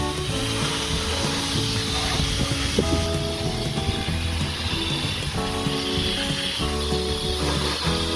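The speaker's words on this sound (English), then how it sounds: "spray it with some water so we can clean out all this dust, making sure that we hit all of the electrical components" Water sprayed over the worn-out engine of a Ford F250 Super Duty truck makes a steady, loud, close hiss that runs without a break, with a faint low hum beneath it.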